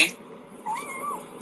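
A pet cat gives a single drawn-out meow up close, rising then gently falling, after a brief quiet moment indoors.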